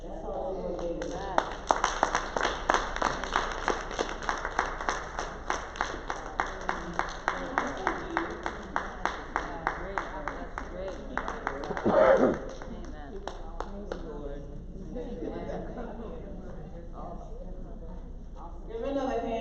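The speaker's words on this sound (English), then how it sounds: "Give me another hand clap." Conference audience claps hands in a sustained round of applause, individual claps distinct and fairly close, with a brief louder swell midway and faint talk underneath.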